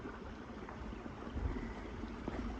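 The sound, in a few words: creek water flowing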